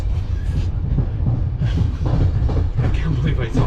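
Passenger train arriving at a station in Bulgaria, carrying Ukrainian refugees: steady loud rumble of rolling rail cars with clattering wheels across the whole stretch, busy platform noise and faint voices mixed in.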